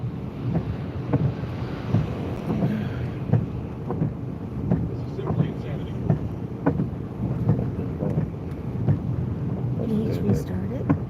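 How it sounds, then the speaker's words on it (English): Strong wind during a severe-weather storm chase in the US Midwest and South, roaring steadily with buffeting gusts against the microphone, loud and continuous for about eleven seconds. "Oh man, here's the wind."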